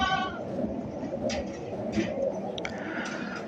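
Goats in a mesh-walled goat shed bleat and call in several short, mid-loud bursts spread across a few seconds, with bird-like calls mixed in.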